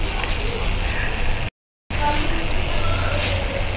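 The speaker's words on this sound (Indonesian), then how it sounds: "Mau knalpot racing? Knalpot racing, oke, ada guys." A racing motorcycle exhaust sound effect plays as a loud, steady, raspy rumble, cut by a brief silent gap midway, with a voice talking faintly alongside.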